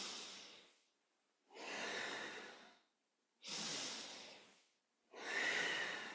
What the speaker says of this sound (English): Move deep, breathe deep